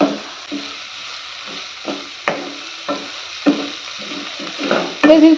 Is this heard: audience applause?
no